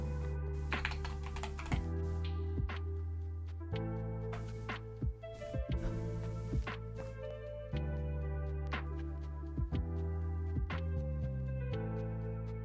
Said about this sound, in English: What keyboard do I use? It's a Keychron K2HE, I think.